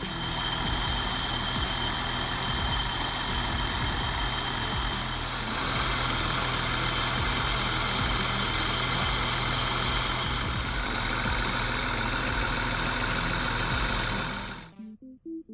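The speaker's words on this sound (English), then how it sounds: "The Nissan RB26 is a six-cylinder inline engine" A Nissan RB26 inline six-cylinder engine idles steadily and close, with a constant low rumble that holds for most of the stretch and then cuts off abruptly near the end.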